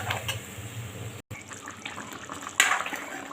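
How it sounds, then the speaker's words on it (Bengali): Water is poured into a pot of chicken curry as it cooks, a soft splashing and trickling pour with a brief pause partway and a brighter splash near the end. "এখন দিয়ে দেব পরিমাণ মতো জল।"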